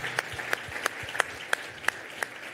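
Brief applause at a school auction after a sale, only a few sharp claps heard faintly and spaced out, with low room background.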